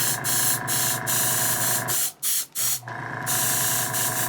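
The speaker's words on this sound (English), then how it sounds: "I'm going to do one more weathering pass using my high volume airbrush again, and especially getting inside of these nozzles" A high volume airbrush sprays weathering paint into jetpack nozzles, giving a close, loud, continuous hissing spray with a rhythmic pulsing beneath it, broken briefly by a couple of short pauses before resuming.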